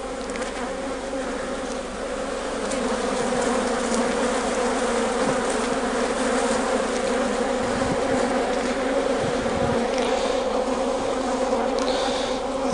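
Honey bees humming around an open Langstroth beehive during an inspection, a dense, steady close buzz that runs throughout with faint handling knocks and no talking.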